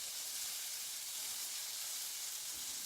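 General Tso's meatballs sizzling in a pan, a steady close hiss of frying fat with no breaks and no voices.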